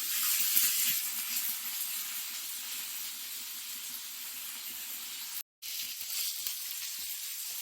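Cauliflower fries in hot oil in a frying pan, giving a soft, steady sizzle and hiss, fairly quiet, with a brief cut-out near the end and no voices.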